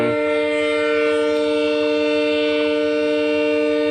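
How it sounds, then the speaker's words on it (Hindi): A loud, sustained train horn blares steadily, one long chord-like tone close by, on a train between Agartala and Guwahati, with no other sounds. "ट्रेन हॉर्न बज रहा है।"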